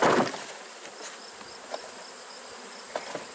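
A honey bee swarm drones in a dense, continuous buzz close by, with individual bees whizzing past now and then in brief louder passes.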